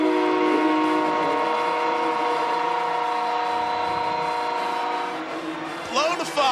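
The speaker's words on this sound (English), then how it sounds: "Blow the foghorn." A stadium foghorn sounds after a touchdown at the 2000 Mobile Alabama Bowl, TCU against Southern Miss. One loud, sustained blast lasts about five seconds, then fades into crowd noise and a burst of commentary.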